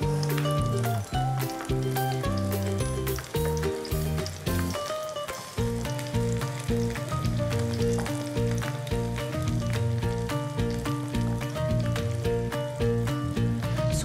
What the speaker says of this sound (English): So while my chicken is frying